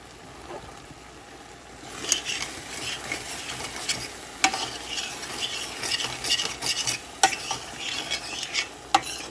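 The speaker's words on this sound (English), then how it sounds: "Now mix it." A spoon stirs peppers and onions through a thick mixture in a pan, giving close, repeated scraping and soft sizzling after a quiet first two seconds, with sharp clinks against the pan and no talking.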